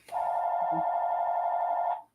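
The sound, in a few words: telephone ringing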